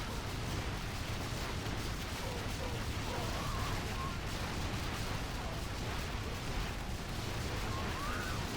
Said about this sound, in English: It's a good thing we've got a Gatling tank there.